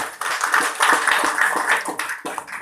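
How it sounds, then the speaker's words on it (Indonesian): An audience claps for a patient at a health product testimonial event, a lively, uneven burst of hands that stays fairly loud and close, with scattered sharper claps. "tepuk tangan buat Purti"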